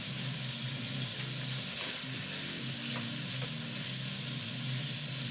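Bacon strips frying in a pan for French toast, giving a steady, close, dense crackling sizzle with popping fat that continues throughout, with no voices over it.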